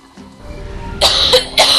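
Two sharp, loud coughs close to the microphone in quick succession, following a quiet throat rumble, from a person pausing during a Zelda: Twilight Princess gameplay session.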